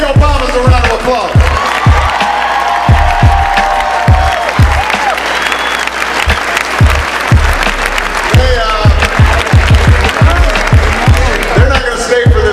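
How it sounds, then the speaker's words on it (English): A large crowd at a Las Vegas political event for Barack and Michelle Obama breaks into loud, sustained applause and cheering, with dense clapping throughout and shouts rising over it. "Give the Obamas a round of applause."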